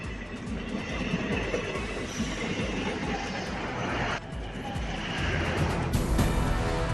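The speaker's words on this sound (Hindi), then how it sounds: "बारामूला बनिहाल में बर्फ से पटे ट्रैक पर चलती दिखी ट्रेन" A train runs on a snow-covered track on the Baramulla–Banihal line in Kashmir. It makes a steady, loud rumble with wheel clatter and squeal that continues throughout, with a brief dip near the middle. No voices are heard.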